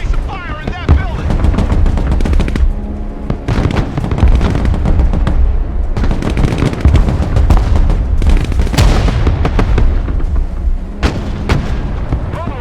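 Dense infantry gunfire and booming artillery in the war game Broken Arrow, rapid rattling shots and heavy thuds overlapping continuously, loud and close, with voices talking over the battle.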